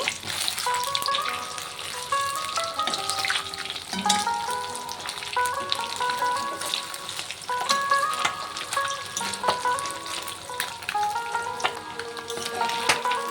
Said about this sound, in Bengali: ডিমটিকে সুন্দর করে ভেজে নেব।